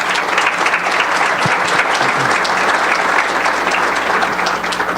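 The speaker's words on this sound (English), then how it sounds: "A little applause for that story." An audience at a district conference applauds, dense steady clapping filling the room at full volume for the whole stretch, with no voices on top.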